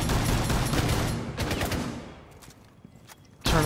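Gunfire in a video game rattles in dense rapid bursts, loud at first, then thins to scattered shots before a final sharp burst.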